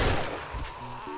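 A single pipe-gun shot fires in the survival game 7 Days To Die: one sharp, close blast at the start that quickly decays into a short fading rumble.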